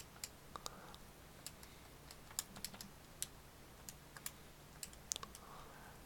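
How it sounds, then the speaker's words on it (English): Numbers are keyed into a calculator with quick, light, irregular taps, soft and close, in an otherwise quiet room. "type this all in the calculator,"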